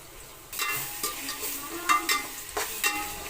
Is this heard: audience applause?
no